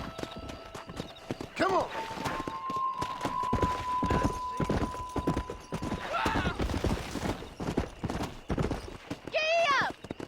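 Horse hooves gallop in Red Dead Redemption as a fast, continuous clip-clop, with a couple of whinnies and a man urging the horse on over the rhythmic beats.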